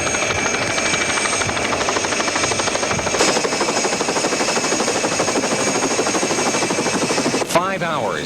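A helicopter ferries crates during a 1994 expedition landing on Peter I Island. Its rotor chops in a steady, rapid, close and loud pulse for the whole stretch, with a brief sharp clatter near the end.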